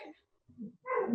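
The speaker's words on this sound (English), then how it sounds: "Sorry, my dogs." A dog gives a short yip, then a low bark, then a louder whining bark, three quick separate sounds from nearby in a quiet room, with no talk.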